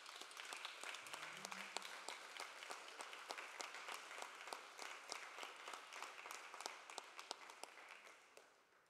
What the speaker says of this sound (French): On va l'applaudir bien fort.